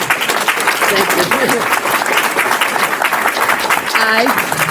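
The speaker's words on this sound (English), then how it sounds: "And we owe a great round of applause for Rita." Audience applause fills an annual meeting hall, steady dense clapping throughout with a voice briefly rising over it near the end.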